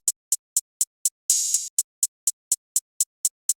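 Shortened Lex closed hi-hat in a pattern: tight, crisp ticks in a steady even rhythm, broken once by a longer hissing burst, heard alone and fairly quiet.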